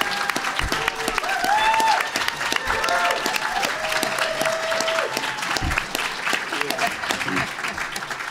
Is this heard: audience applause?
yes